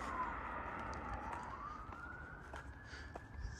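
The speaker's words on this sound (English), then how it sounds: "So I can hear an ambulance," A distant ambulance siren wails, its tone sliding slowly down and back up over steady low rumbling background noise.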